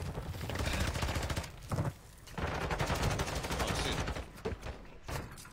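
Rapid gunfire in a shooter video game, dense bursts of shots continuing almost without pause across the whole clip, loud and close, with brief gaps.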